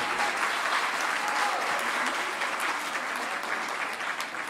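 Sustained audience applause fills an evening event honoring a member of an online accountants' group, dense and even throughout with no talk over it.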